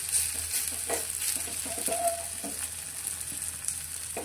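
Raw potato batter spooned into a pan with a little oil and a pinch of cumin sizzles steadily, a close, continuous bright frying hiss with faint stirring ticks and no talk.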